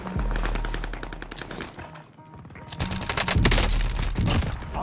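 Rapid bursts of gunfire crackle through a fast-paced shooter video game match, loud and dense with overlapping shots, a short lull midway, then heavier firing resuming.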